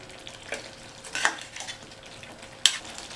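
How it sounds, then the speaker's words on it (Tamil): Baby potato gravy seasoned with garam masala being stirred in a pan, a few soft scraping strokes over a faint sizzle, quiet and close with no talk. "சேர்த்ததுக்கப்புறம் நல்லா ஒரு தடவை மிக்ஸ் பண்ணி விட்டுருங்க"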